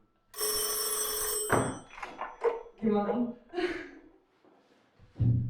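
A loud, bright ring from an old telephone bell rings once, then stops as voices speak nearby; a second ring briefly begins at the end.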